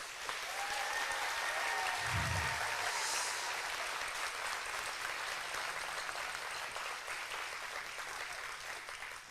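Sustained audience applause fills a steel band spring concert hall, dense and steady throughout, slowly tapering toward the end with a brief low thump early on.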